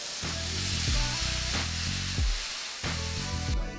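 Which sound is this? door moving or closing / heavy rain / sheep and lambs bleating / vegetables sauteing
vegetables sauteing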